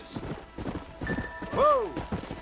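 Horses in the Red Dead Redemption video game clop along with hooves thudding in an uneven rhythm, and one horse whinnies in a short, near neigh partway through.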